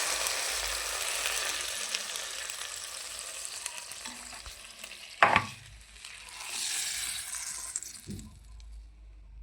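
Tempering poured into a cooking dish sets off a steady, fairly loud sizzle and hiss, with a sharp burst as it hits the pan and some stirring, fading near the end.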